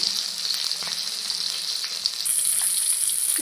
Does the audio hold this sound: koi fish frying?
yes